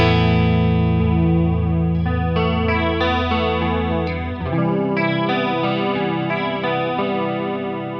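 Electric guitar through a Boss CE-2 chorus pedal with depth near maximum and rate about halfway, sustained chords shimmering and warbling, changing harmony mid-phrase, loud and close with no talking.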